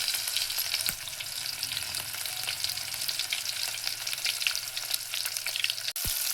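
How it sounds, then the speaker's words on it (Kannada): Onions frying in a pan for a fish curry, a constant close crackling sizzle with faint stirring taps and a brief knock near the end, no talk. "ಈಗ ಸ್ವಲ್ಪ ಈರುಳ್ಳಿ ಹಾಕಿ ಚೆನ್ನಾಗಿ ಫ್ರೈ ಮಾಡ್ಕೊಳ್ತೀನಿ"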